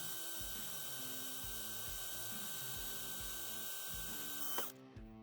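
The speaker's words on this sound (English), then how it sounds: "we can continue drilling through" A power drill whirs in repeated bursts while drilling a pilot hole for a Polaris XP grab handle, pitch rising and falling as it bites into material, then stops abruptly near the end.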